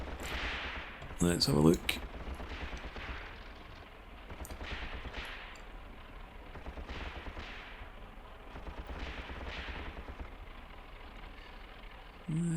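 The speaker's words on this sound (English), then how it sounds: "they are firing over here" Distant gunfire in the Tank Warfare: Tunisia 1943 battle at Longstop Hill, with scattered muffled shots and bursts under steady rumbling ambience, and a short spoken remark early on.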